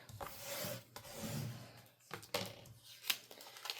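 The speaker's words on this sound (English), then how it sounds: "And I will go ahead and scrape the back." Close, dry scraping of a tool across the backing of Cricut vinyl, in several rasping strokes with short pauses between them, no voices.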